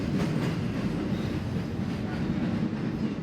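A Boston Red Line subway train crossing Fort Point Channel, a steady low rumble of wheels and cars rolling past without a break, fairly close and unbroken by talk.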